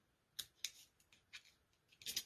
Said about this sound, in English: let's just trim that off and trim that off